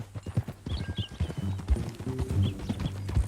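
Horse hooves clip-clop in Red Dead Redemption 2, a quick, close, rhythmic series of hoof strikes on the ground with faint background sound.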